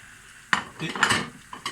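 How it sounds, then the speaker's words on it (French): Onions and garlic frying in oil in a pan, a brief close sizzle with a couple of spoon strokes and light clatter against the pan, no talking. "Je fais revenir mon huile avec les oignons."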